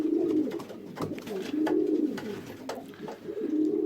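Cock pigeons, Andalusians among them, coo repeatedly inside a loft shed, their low rolling calls overlapping in a steady, close chorus with no talking.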